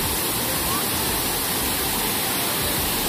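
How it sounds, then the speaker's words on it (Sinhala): Dunsinane waterfall in Sri Lanka roars as a loud, steady broadband rush of falling water, constant throughout with no pauses. "ගියාම පිහිටලා තියෙන දියඇල්ලක් තමයි දන්සිනන් ඇල්ල"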